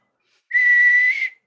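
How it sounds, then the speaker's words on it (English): A single sustained whistle blown close into a microphone, a clear steady tone lasting under a second, loud and alone against silence. "Is 10 minutes of fucking whistling into the mic?"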